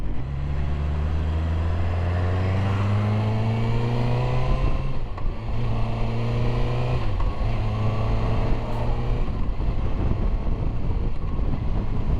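A 2025 Kawasaki ZX-6R sport motorcycle engine drones steadily on back roads, its pitch rising and falling through gear changes, with wind buffeting the microphone.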